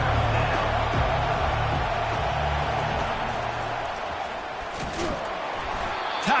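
Video-game stadium crowd in EA Sports College Football 25, in a college football game against Notre Dame, roaring steadily after a quarterback run. A dense, constant wash of cheering fills the stadium, with a few sharp thuds and slaps near the end.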